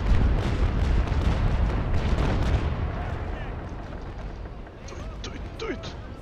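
Heavy ship cannon broadside booms in the Naval Action game during a port battle, deep rumbling blasts that roll on and fade, with voices talking over them.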